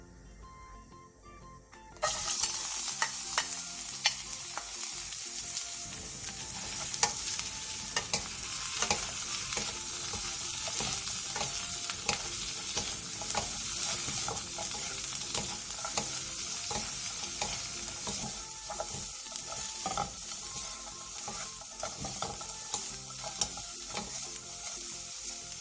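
Burdock root stir-frying in perilla oil over medium heat in a pan, a steady loud sizzle starting after a quiet opening, with frequent scraping and stirring clicks throughout.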